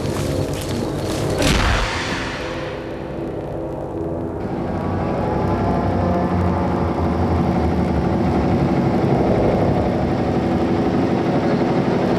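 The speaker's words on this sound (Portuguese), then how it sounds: "desliga o motor!" A car engine idles steadily at close range, a continuous low rumble lasting throughout after a brief louder burst of noise at the start.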